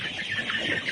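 Layer pullet chickens about fifty days old on a poultry farm, a steady chorus of clucking and calls filling the space, fairly close and continuous with no talking.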